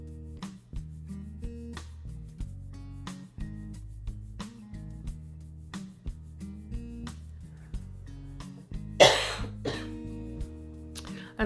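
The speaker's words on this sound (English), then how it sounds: "I'm sorry for coughing and sounding bad." A single sharp cough, close and loud, bursts out over steady low background music that plays throughout.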